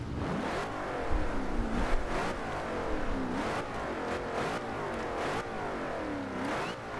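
A 2005 Ford GT's supercharged engine in Forza Horizon 2 revs repeatedly, its pitch climbing and falling in several loud swells over a steady engine drone, with no talking.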